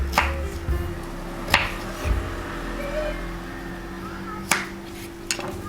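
A knife chops fresh ginger into small cubes on a board for a gin, grapefruit and ginger cocktail: a few sharp, separate thuds at irregular intervals over a quiet background, with no talking.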